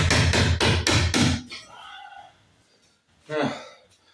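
Five rapid, loud hammer blows on the metal roof of a converted truck while holes are being patched, followed by quiet shuffling and a short breath or murmur.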